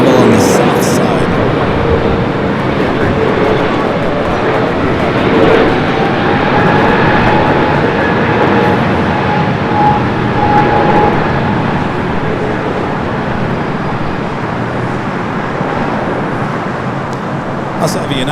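An American Airlines Boeing 777-200ER arriving from Miami at Los Angeles airport produces a loud, steady jet rumble with faint shifting engine tones, while someone talks over it throughout.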